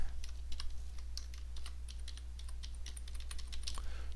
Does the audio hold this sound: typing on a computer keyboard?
yes